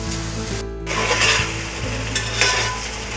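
Onions fry in a pan for chicken biryani, with a steady sizzle and rubbing stirring strokes, close up and without speech.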